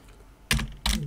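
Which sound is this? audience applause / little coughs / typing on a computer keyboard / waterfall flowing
typing on a computer keyboard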